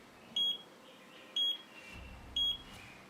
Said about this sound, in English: If only your controller's audio alarm goes off